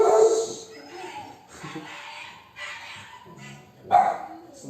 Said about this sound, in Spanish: Un perrito por ahí. Un perrito que ladra